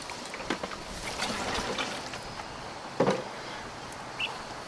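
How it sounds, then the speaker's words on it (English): Excess water poured off pre-moistened potting soil for planting winter squash seeds, a soft trickling splash with a brief louder slosh midway, faint and close, with no talking. "I just poured the excess water off"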